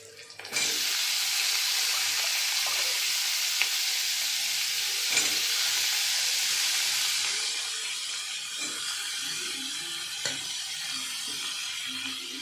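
Pumpkin and bitter gourd frying together in a pan at home, a loud, continuous close sizzle that starts suddenly and runs throughout, easing slightly partway, with a few faint clinks of stirring.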